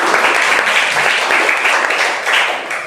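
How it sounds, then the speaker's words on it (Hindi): Audience applause from a classroom quiz-show crowd, a steady dense wash of clapping lasting a few seconds, close and fairly loud with no voices over it. "चलिए तालियां बजाइए।"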